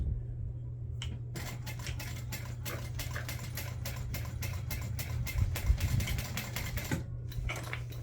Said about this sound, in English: And you're gonna sew, I sew with a 3/8 inch seam allowance.